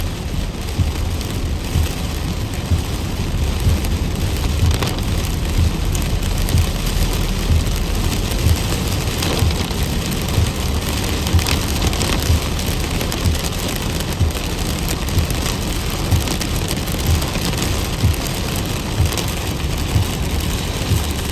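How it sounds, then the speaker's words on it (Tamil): Heavy rain during a drive in Chennai, a steady, dense hiss that continues without a break, with low vehicle rumble underneath. "நான் எதிர்பார்க்கல இந்த அளவு மழை பெய்யணும்."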